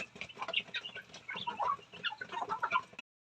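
Many chickens cluck and cackle together in a busy, continuous chorus, close and fairly lively, with no talking.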